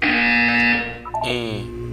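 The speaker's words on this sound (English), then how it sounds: "When you hear the buzzer, look up at the ceiling." A flat, harsh electronic buzzer from the Portal 2 video game blares steadily for about a second, then cuts off and gives way to a brief tone and a fainter resonant hum.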